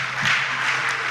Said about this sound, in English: Please clap for our contestants.